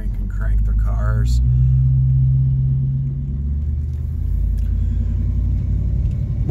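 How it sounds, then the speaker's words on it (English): A 1969 Ford Mustang Mach 1 engine catches and settles into a loud, deep rumbling idle close by, with a voice heard briefly at the start. "You can just tickle that key and just give her a click and she pops right off."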